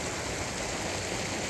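Flowing stream water runs steadily beside a campsite on the Rubicon Trail, a constant broadband rush with no breaks, fairly loud and close, with no voices.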